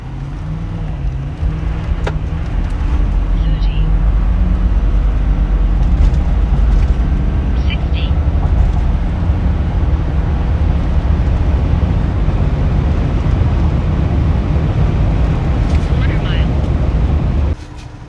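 A 2025 Ford F-series pickup with a 3.55 HO Power Stroke diesel and 10-speed transmission accelerating to 60, a steady loud low engine drone heard from inside the cab that holds for the whole run before cutting off.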